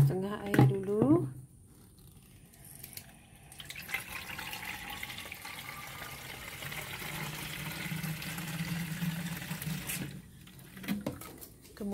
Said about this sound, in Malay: Masukkan setengah air dulu.